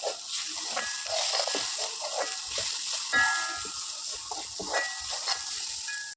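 Onions in a frying pan with salt and turmeric, stirred for a crab roast, give a steady soft sizzle with faint scraping strokes from the spoon, close and alone with no talk.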